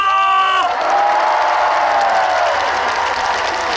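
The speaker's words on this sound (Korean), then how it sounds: "박수와 함성!" Big outdoor crowd at an autumn-night riverside stage show on the Geumho River banks bursts into applause and cheering, loud and sustained, just after the host's voice trails off.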